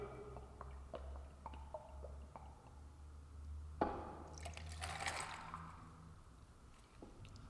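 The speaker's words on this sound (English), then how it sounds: "We're going to go in with 60 mils or 2 ounces of your select aperitivo." Aperitivo poured from a jigger into a glass filled with ice: a few faint clinks of ice, then a short liquid splash and trickle over the cubes, close and quiet, with no talking.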